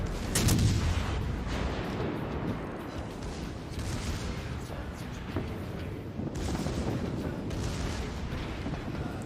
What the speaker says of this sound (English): Even my secondaries are getting in on the action here.